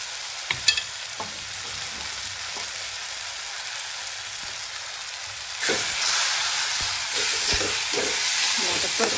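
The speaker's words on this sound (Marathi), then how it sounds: "आता परतून घेते थोडा वेळ" Onion, garlic, green chili, cumin and coriander sautéing in a pan for a curd-brinjal dish, a quiet sizzle with a few utensil knocks that swells into a louder hissing fry partway through.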